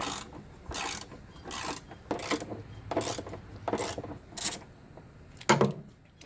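A hand ratchet loosening 16mm bolts underneath an Audi wagon, heard as a series of about ten short, close clicking bursts in an irregular rhythm with quiet pauses between, no voices.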